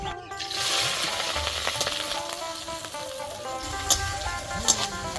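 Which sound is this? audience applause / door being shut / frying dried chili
frying dried chili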